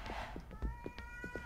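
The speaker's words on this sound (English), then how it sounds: "Cats that freak me out more than the thing." A cat meows in the horror video game Erie, several short, faint cries in quick succession against a quiet electronic hum.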